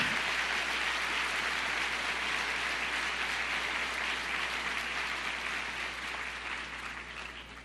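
Applause from a church congregation fills the room, steady dense clapping that holds loud for several seconds and then begins to thin and fade slightly toward the end.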